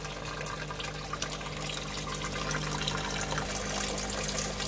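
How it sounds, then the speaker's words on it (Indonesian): Water trickling and splashing into a fish-rearing bucket holding snakehead fish, a continuous soft babble of flowing water with a low steady hum beneath, no one talking. "Jadi kami biasakan di sini dengan suara-suara dari gemericik air yang timbul."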